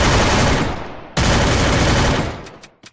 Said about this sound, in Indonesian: Tembak aja terus, cuy.